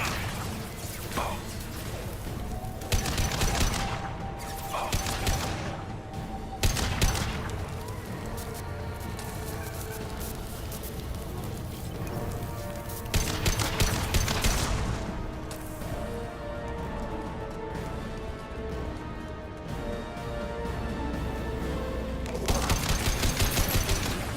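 Bursts of weapon fire in the sci-fi shooter Mass Effect 2, loud rattling volleys recurring every few seconds over a constant combat backdrop, with brief squad callouts in between.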